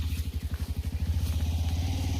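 A motorcycle engine runs nearby with a steady, rapid low-pitched putter, loud and continuous throughout, with no talk.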